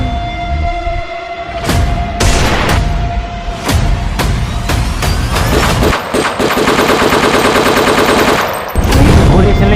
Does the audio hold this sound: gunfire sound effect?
yes